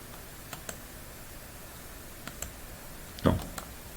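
A computer mouse gives a few sharp, quiet clicks spread across a few seconds, with one louder knock near the end.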